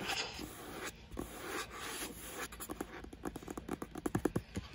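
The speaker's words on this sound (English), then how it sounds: "I'll do some more page scratching." Fingertips scratch and rub across book pages close up, a soft papery rasp that turns into a quick, uneven patter of scratches toward the end, heard alone with no talking.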